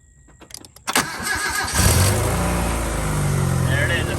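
A car starts from an Andeman portable jump starter with air compressor: a few soft clicks and cranking sounds, then the engine catches with a sharp surge and settles into a steady, fairly loud idle, with a voice speaking briefly over it.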